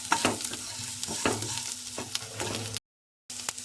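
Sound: stirring chili powder and garam masala into carrot rice

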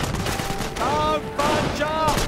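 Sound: gunfire in the video game Company of Heroes

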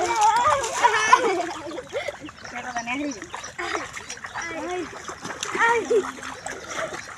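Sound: water splashing

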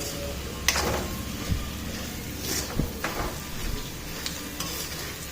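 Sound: frying peanuts, curry leaves, chillies and spices for puffed rice

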